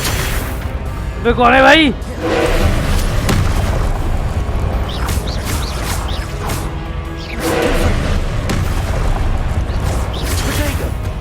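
Confringo fire spell blasts in the game Hogwarts Legacy, booming explosions and whooshes repeating across the clip, with someone talking over the action.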